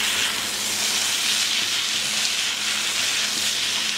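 Noodles being stir-fried in a pan for a Thai stir-fried rice-noodle dish, a steady loud hiss and sizzle running unbroken throughout with no talking.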